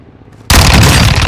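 Gunfire in Call of Duty MW2 DMZ, a sudden loud burst of sustained rapid fire that cuts in after near silence.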